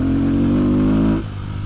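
A Fantic 125 motorcycle pulls hard in third gear, its engine note loud, close and steady as it accelerates, then easing off abruptly near the end as the throttle closes.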